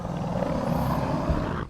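A short, loud Carcharodontosaurus threat growl from the game Path of Titans, harsh and rumbling, cutting off abruptly after under two seconds.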